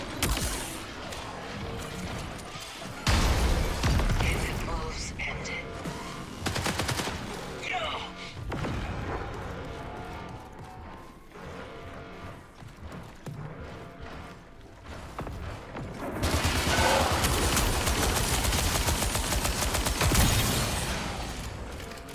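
Rapid sustained automatic gunfire from a spin-up weapon in the video game Marathon, loud dense bursts that swell and ease over the whole stretch, with a brief quieter gap and a heavy final burst.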